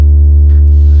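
A deep, steady synth bass tone from Ableton's Operator through a Glue Compressor holds loud and sustained, a thick compressed low drone with no breaks or other sounds.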